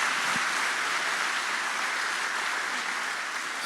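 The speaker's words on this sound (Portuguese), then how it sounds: "Você pode aplaudir esse plano fantástico?" A church audience at a family gathering applauds in a dense, steady wash of clapping that stays loud and even for several seconds, with no voices standing out.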